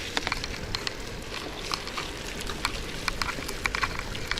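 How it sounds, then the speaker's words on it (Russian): Rain falls in a city, probably heard from inside or beside a car, as a steady broadband hiss scattered with small irregular taps of drops hitting a surface, moderately quiet with no voices. "Дождь."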